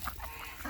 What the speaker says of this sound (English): Okay, there are my ducks.